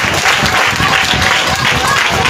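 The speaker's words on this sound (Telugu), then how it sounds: "you have to give them a clap" An audience claps steadily for teachers at a Teachers Day function, dense and continuous applause throughout with a faint murmur of voices underneath.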